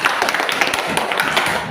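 Students in a classroom clapping their hands, a loud, close, brisk patter of claps lasting under two seconds.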